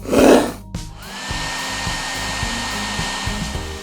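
A budget hair styler dryer switching on and blowing with a loud, steady whoosh and a faint high motor whine, close up, running continuously after a short burst of noise at the start.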